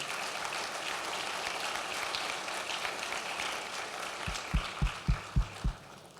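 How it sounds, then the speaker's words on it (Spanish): A church congregation applauds in a steady, moderately loud wash of clapping, while several deep, evenly spaced thumps, likely a bass drum, sound near the end. "Denle un aplauso a Dios, por favor, iglesia."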